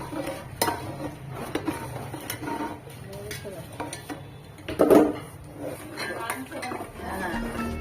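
Bellam pongadalu, a sweet fried snack, stirred in a pan, with scattered clinks and scrapes of a spoon on metal, one louder clatter midway, close, with faint voices in the background.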